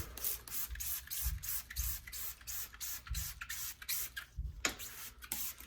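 Short hissing spray bursts of isopropyl alcohol onto a Fox DHX coil mountain bike shock repeat in an irregular rhythm, close and fairly loud, with soft thumps between them.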